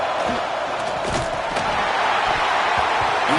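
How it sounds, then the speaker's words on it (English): Stadium crowd noise in a college football video game, Tennessee Volunteers hosting North Carolina, forms a dense, roaring wash of fans with a few sharp thumps and swells over the constant din. "this crowd is fired up. Listen to this noise here"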